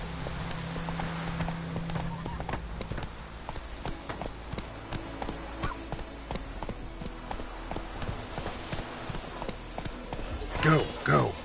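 Roach, the horse in The Witcher 3: Wild Hunt, gallops with a steady, rapid clip-clop of hooves over game music, ending with a brief whinny or snort near the close.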